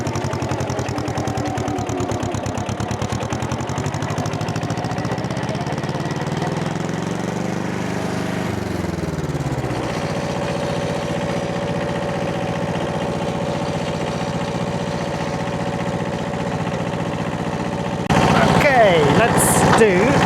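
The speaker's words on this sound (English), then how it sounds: "Let's get tractoring." An old tractor engine runs steadily at close range on a homestead field, a loud continuous low chugging drone whose pitch dips and recovers before settling into an even idle-like hum, with a sharper rattle near the end.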